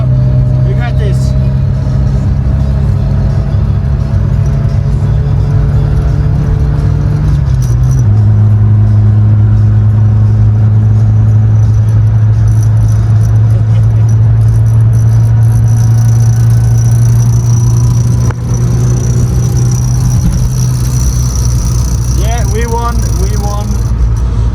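A 1987 Ford Sierra races another car on a Norwegian road; its engine drones loud and steady close by, the pitch stepping down partway through amid heavy road and wind rumble.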